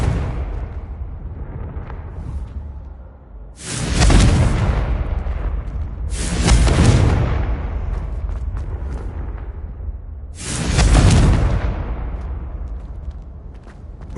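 Three loud, rumbling fire-spell blasts from Confringo in Hogwarts Legacy, each a sharp burst that rolls off into a booming decay, spaced a few seconds apart over a steady low background.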